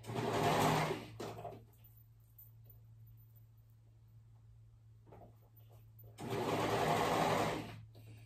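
A sewing machine stitches a peach-toned pie-themed dress in two steady whirring bursts at the start and end, separated by a quieter stretch of faint handling.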